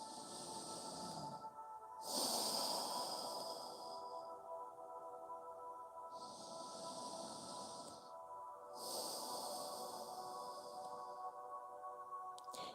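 Slow, steady nasal breathing during a yoga session, with long airy inhales and exhales alternating in a calm rhythm, close and soft, with no talking.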